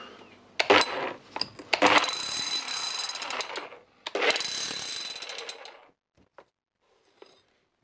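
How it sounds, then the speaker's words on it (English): A DeWalt SDS max hammer drives a chisel in two loud, sustained bursts of rapid hammering with a short pause between them, then a few faint clicks in near silence. "now we want to check how it hammers."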